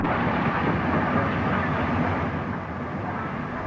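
Steam locomotive 70041 Lord Roberts hauling a summer Saturday passenger train through Wellington station in the 1960s, a loud steady rumble of wheels and engine that eases slightly toward the end.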